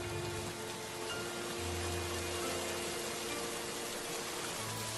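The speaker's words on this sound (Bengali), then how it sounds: "কিছুক্ষণ পর বৃষ্টি শুরু হয়।" Rain in a Bangla folk-tale cartoon, a loud, steady, unbroken downpour pattering on surfaces, alone with no voices.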